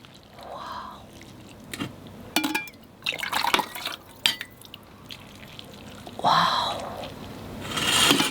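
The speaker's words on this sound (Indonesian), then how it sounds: "Kita tinggal kasih kuahnya" Broth poured over large beef rib bakso meatballs, a liquid splashing and trickling into the bowl in a couple of bursts with small clinks between, close and fairly quiet.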